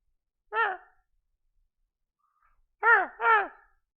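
A voice imitates a raven cawing at a bar, giving one harsh caw, a pause, then two quick caws in a row, close and loud against silence.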